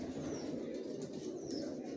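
Adult racer pigeons with leg tags, Johnson line, cooing low and continuously in a loft, soft throaty murmurs blending with faint rustling and occasional brief higher chirps.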